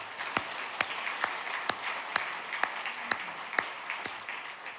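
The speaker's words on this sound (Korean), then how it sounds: "우리 박수로 격려하겠습니다." Steady, moderate applause fills a church seminar room, with scattered sharper claps standing out at a regular pace.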